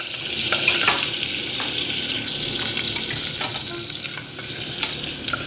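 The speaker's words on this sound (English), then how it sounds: "I'm gonna start stirring the garlic now." Chopped garlic sizzles steadily in hot oil in a pan, with scraping stir strokes recurring throughout, close and fairly loud with no talk.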